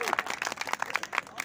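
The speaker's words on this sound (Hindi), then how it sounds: "सुनना चाहते हो तो ताली बजाओ" Audience clapping at a Hindi poetry recital (kavi sammelan), heard as a quick burst of scattered claps at moderate distance with some voices mixed in.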